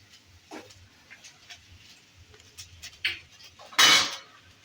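A spoon scrapes and clinks against a pan while ghee is stirred into basmati fried rice, with scattered soft scrapes building to a louder metallic clatter near the end, close and without talk.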